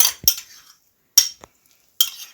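A spoon clinking against a pot while stirring yogurt starter into about five kilos of milk, three short distinct metallic scrapes separated by silence, close and clear.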